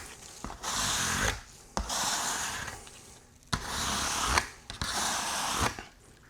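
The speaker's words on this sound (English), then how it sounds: "So I'm just gonna go over that trowel with acetone" A trowel is wiped down with acetone after concrete work, giving repeated rough rubbing strokes in steady back-and-forth passes, close and distinct with no talk.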